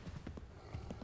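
Horse hooves galloping in the video game Assassin's Creed 3, a faint rhythmic clip-clop of quick hoofbeats in a short burst, quiet and without speech.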